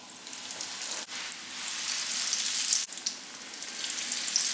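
Chicken kunafa pieces frying in hot oil in a flat pan over a low flame, a steady close sizzle with two brief dips, and no one talking.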